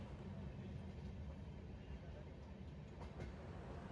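A passenger train travelling to Kerala rumbles steadily with a constant low roar and faint rattling of the carriages, heard from inside throughout.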